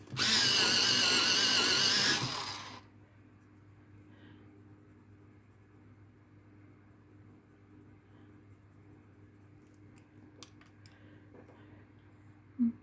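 A white colored pencil is sharpened with a loud, steady grinding whir lasting about two and a half seconds, which then cuts off to a quiet room with a few faint clicks.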